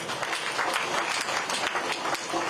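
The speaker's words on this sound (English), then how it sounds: "Let's give him another round of applause." An audience gives a round of applause at a formal Nigerian event, with dense, continuous clapping from many people, loud and steady for the whole stretch, and no talking over it.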